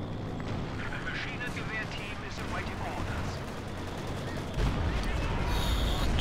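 Mortar fire and shell impacts in Company of Heroes 2 roll through a dense battle din of scattered bangs and crackles, with a heavier thump near the end and faint commentary underneath.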